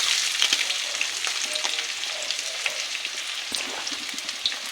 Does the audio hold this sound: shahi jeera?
yes